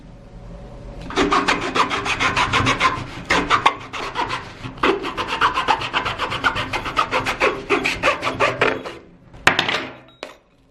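Rapid rasping strokes of a saw cutting through a hollow roly-poly toy with a heavy weight inside, in bursts with short pauses, ending with a few knocks and a small clatter.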